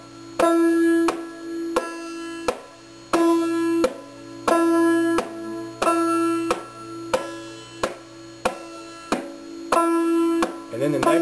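Open-back style frailing on a banjo, the first finger striking the first string in a steady, evenly spaced rhythm of bright plucked notes with ringing drone, close and moderately loud, no voice over it.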